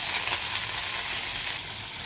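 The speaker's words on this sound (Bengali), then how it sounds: "এর মধ্যে 1 চামচ আমি পেঁয়াজ বাটা দেবো, দিয়ে নাড়বো।" Onion paste frying and being stirred in hot oil, giving a steady, close, loud sizzle throughout that eases slightly near the end, with no voices.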